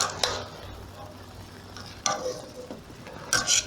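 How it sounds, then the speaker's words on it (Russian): A spoon stirs plov in a kazan: a few brief scraping clinks spaced a second or more apart over a low, quiet background hum. "И теперь необходимо все перемешать."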